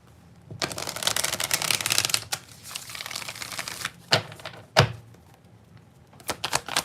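Animal Spirit Oracle cards being shuffled by hand, a close, crisp riffling flutter lasting a couple of seconds, followed by quieter handling and several sharp slaps and taps as the deck is squared.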